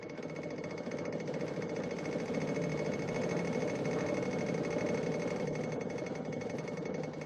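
An antique belt-driven power hammer in an old factory, worked by a leather drive belt off an overhead line shaft, runs steadily in a dense, continuous rapid hammering clatter with mechanical hum, loud and unbroken, with no voices.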